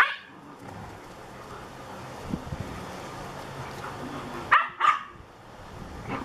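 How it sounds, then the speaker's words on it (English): Poodles and doodle dogs bark and yap in a couple of quick sharp bursts, moderately near, over a windy outdoor background hiss. "What do you think about all that yapping, Tippy?"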